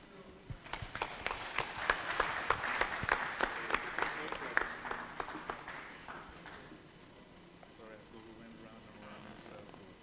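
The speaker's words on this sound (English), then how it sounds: "Please give him another round of applause." Conference audience applauding at an African cassava conference, a dense burst of clapping that peaks early, then thins and fades toward the end under faint murmuring.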